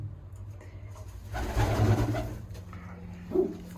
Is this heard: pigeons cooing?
yes